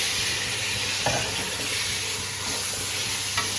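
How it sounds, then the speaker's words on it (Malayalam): Tomatoes go into browned frying onions in a pan for chicken biryani, producing a loud, continuous sizzle with a couple of brief stirring scrapes. "ഉള്ളി മൂത്തക്കള് അപ്പോൾ നമ്മൾ തക്കാളി ഇടുന്നുണ്ട്"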